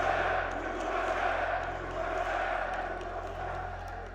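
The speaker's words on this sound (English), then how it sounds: "Crowd slowly starting to warm up here for what will be the final map of this series." A crowd at an esports arena during a Rainbow Six Siege Major semifinal in Salt Lake City gives off a steady, distant murmur that stays even throughout.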